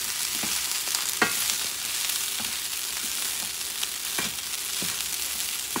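Rice with pork feet, Puerto Rican arroz con patitas de cerdo, sizzling steadily in a frying pot while being stirred, with occasional scraping strokes and clinks over a constant close hiss, no talking.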